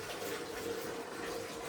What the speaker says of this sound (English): I'm just running some more hot soapy water while I continue to wipe down in here